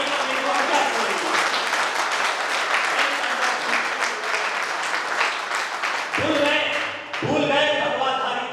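A crowd at a Rajsamand kavi sammelan of heroic poetry claps loudly and continuously, the ovation easing near the end as a voice briefly cuts through.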